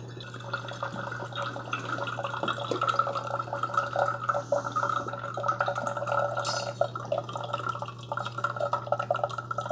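A Hamilton Beach The Scoop single-serve coffee maker brewing, with coffee dripping and trickling in irregular bursts over a constant low machine hum. The sound is steady, close up and moderately quiet, and no voices are heard.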